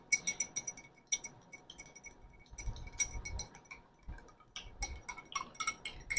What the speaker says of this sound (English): That's why I am stirring continuously with the help of the spoon.